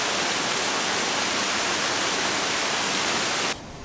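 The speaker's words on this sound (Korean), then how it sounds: "아무리 수성동 계곡이라도 이렇게 많은 수량은 평소에 보기 어렵습니다" Rushing water of the Suseong-dong valley stream in Seoul, running unusually full, makes a loud, steady, broadband roar close by, then drops suddenly to a softer rush near the end.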